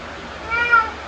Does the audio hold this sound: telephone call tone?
no